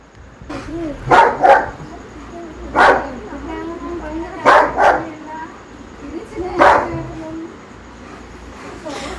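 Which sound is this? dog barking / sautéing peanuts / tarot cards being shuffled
dog barking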